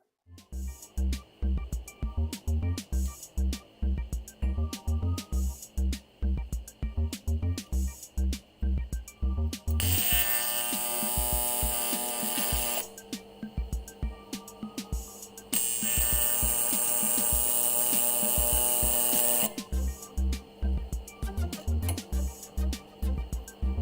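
A Kemppi 235 TIG welder tack-welding AN fittings, heard as two sustained buzzing arcs of a few seconds each over rhythmic funky music playing in the background.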